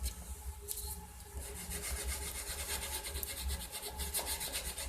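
A wooden cigar box guitar neck heel is smoothed by hand with a rasp or file, giving quiet, steady rubbing and scraping strokes that repeat in a continuous rhythm with no talk.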